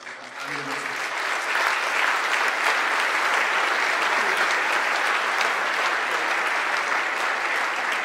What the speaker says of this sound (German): Ich finde ein donnernder Applaus angemessen.